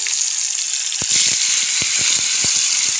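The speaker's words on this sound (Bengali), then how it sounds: "এবার এই যে বেগুন ভাজা করবো" Salted, turmeric-coated eggplant sizzles steadily in hot oil in a pan, with a loud continuous frying hiss and a few soft knocks or spatters throughout.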